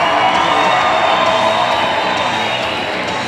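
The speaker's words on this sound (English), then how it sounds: "Give all 10 ladies a big ass round of applause tonight." Loud crowd at a bikini contest in a Cowboys dancehall cheering, whooping and applauding for ten contestants, a dense, steady roar of shouts and claps throughout.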